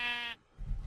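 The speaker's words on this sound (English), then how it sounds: "I heard a sheep and I want to kill it." A sheep bleats once in the Minecraft video game, a short, clear harmonic cry up close, followed by a brief low thump after a moment of quiet.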